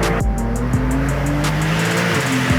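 A Brabus-tuned Porsche 992 Turbo S Cabriolet drifts sideways with engine revving loudly and tires squealing, close and continuous, no voices.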